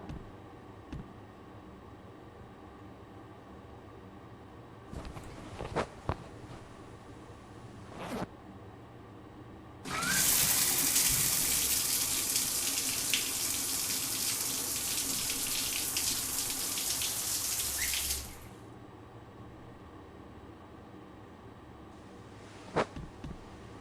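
A shower runs for about eight seconds in The Milgram Experiment game, a broad steady rush of water that starts and stops abruptly, framed by faint clicks and a quiet room hum.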